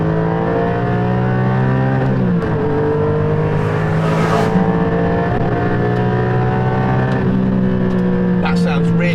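Porsche 718 Cayman GT4, a 2020 sports car, pulls hard in second gear, its engine a loud, steady, rising drone with strong harmonics that dips briefly around a gear change, close and continuous for the whole stretch.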